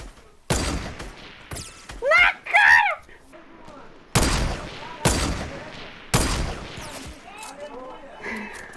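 Sharp gunshots in a tower-area shooter video game, single loud reports in a rough rhythm with a few echoing tails, some close and some farther off, with people talking over the firing.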